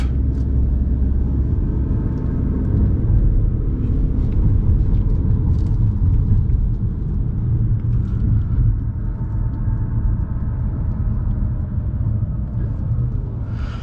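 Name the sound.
Ford Maverick hybrid 2.5 liter 4-cylinder engine kicking on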